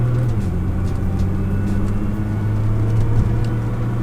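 Nissan GT-R slowing toward a stop sign and downshifting into first gear, a steady low engine drone with a slight shift in pitch, heard from inside the car with no talking.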